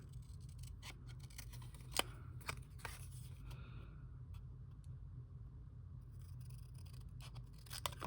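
Scissors snip out small paper stamp pieces with a few quick straight cuts and a trim around the edge, sharp close clicks over a low steady rumble, with no talking.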